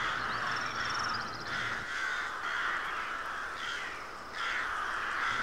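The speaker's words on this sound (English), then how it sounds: "the crows certainly have gotten chatty, haven't they?" Several crows cawing outdoors at a moderate distance, repeated harsh calls coming in bursts over a steady background hiss, with no speech.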